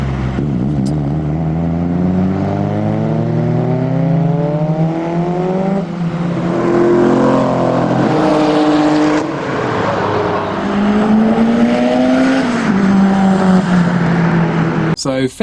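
Modified cars revving and pulling away from a car meet, several engine notes rising and falling one after another at close range, loud throughout with some voices mixed in.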